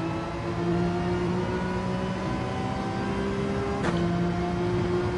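Racing car engine in Gran Turismo 7 during an online daily race, holding a steady high-pitched drone at high revs, then shifting pitch briefly near the end; no talking.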